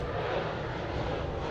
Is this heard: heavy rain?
no